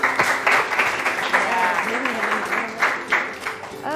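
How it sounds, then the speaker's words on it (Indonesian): A class applauds a student group's poster presentation, clapping steadily for several seconds while voices call out and chatter over the clapping. "tepuk tangan dulu untuk kelompok ini ya"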